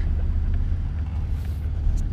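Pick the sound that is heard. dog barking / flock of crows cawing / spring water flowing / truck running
truck running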